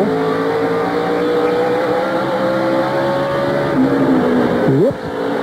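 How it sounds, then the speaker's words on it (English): Race cars roar by on the track in the 2000 GoRacing.com 500, with engine drone holding steady and then a sharp pitch drop as one passes close, loud and continuous. "here comes David Green in that 94 car"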